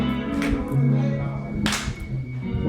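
An audience at a live talk event claps hands in a couple of sharp bursts, heard under a voice and other sound.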